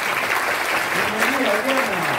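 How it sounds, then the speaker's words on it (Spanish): Brief burst of audience applause at a Bethel Internacional talent show as Adriana Ferreira is welcomed, a dense wash of clapping with a voice speaking over it. "Recibimos con un fuerte aplauso a Adriana Ferreira."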